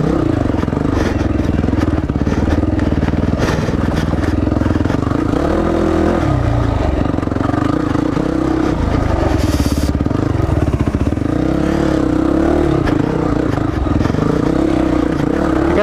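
A 2005 Yamaha WR 450 dirt bike rides a trail, its engine droning steadily and close with rising and falling revs, plus clattering and scraping throughout, and no talk.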